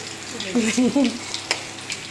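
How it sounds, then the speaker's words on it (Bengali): Potatoes frying in a pan with a light sizzle and a couple of sharp stirring knocks, close by, while a voice briefly sounds over it. "এবার তো হচ্ছে আলু ভাজা"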